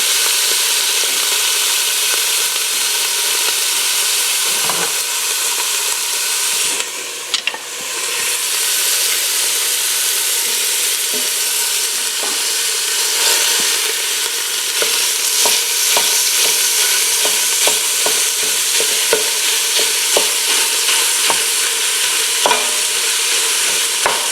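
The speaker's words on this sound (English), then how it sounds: "Okay, so take our ground beef. We're going to throw it in the pot and brown it up." Ground beef browns in oil in a pot, giving a loud, dense, continuous sizzle with scattered crackles and stirring scrapes close up throughout.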